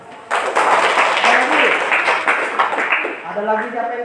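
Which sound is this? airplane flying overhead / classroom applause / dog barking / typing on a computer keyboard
classroom applause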